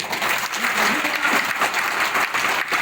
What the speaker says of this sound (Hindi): थोड़ा ताली लगाइए